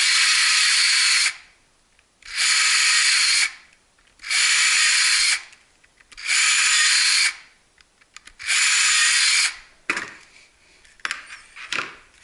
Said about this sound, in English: And we'll drill our pilot holes.